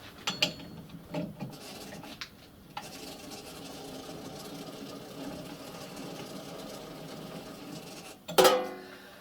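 An Adept No.2 shaping machine cuts steel held in a vise, a low steady mechanical chatter of the stroking ram under a few sharper knocks and clatters at the start and end; quiet and close.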